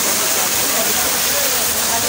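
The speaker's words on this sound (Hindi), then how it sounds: "आबशार भी काफी अच्छी बनाई हुई है" A steady, full rush of a waterfall near Jhelum, Pakistan, pouring continuously at close range, loud and unbroken throughout.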